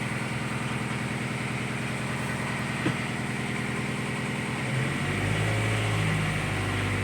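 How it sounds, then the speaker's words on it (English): A Hampton Safari Mk1V sedan boat's engine runs smoothly at a steady idle, a close, even mechanical hum that deepens and grows slightly louder toward the end. "Nice, smooth running engine."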